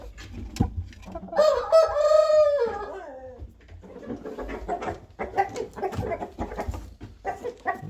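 A rooster crows once nearby at a market, a long rising and falling call, followed by clucking and scattered poultry noises.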